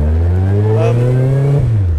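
Lotus 7 style car fitted with a Hayabusa motorcycle engine, revving loud and close: a rising, high-pitched rasping note that climbs then drops off sharply as the throttle closes.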